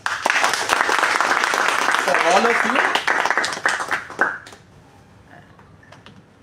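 A class applauds at the close of a personality development and life skills training session, a dense patter of clapping heard under a voice that fades out after about four seconds, leaving quieter talk.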